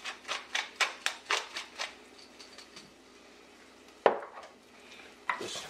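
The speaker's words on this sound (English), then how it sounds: "Just give it a quick stir in here" Diced medium onion and roughly chopped garlic with black pepper being stirred in a pot, giving a quick series of close, rhythmic light scraping clicks, then a pause and a couple of sharper knocks.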